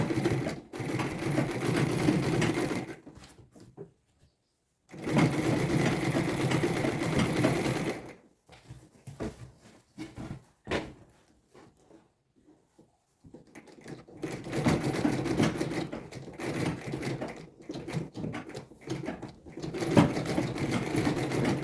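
A sewing machine runs in bursts while securing all the edges of a structured tote bag, with two long steady stretches of stitching separated by pauses and short stop-start runs, loud and close with no talk.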